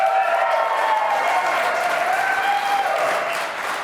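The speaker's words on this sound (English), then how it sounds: "can you clap?" Audience of former Handspring and Palm employees and guests clapping at a live museum event, a steady wash of applause that tapers slightly at the end, with a faint tone running underneath.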